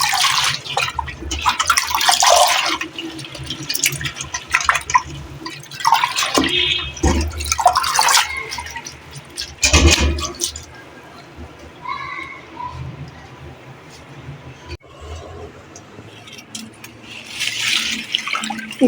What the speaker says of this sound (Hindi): पुदीने को भी हम वॉश कर लेंगे।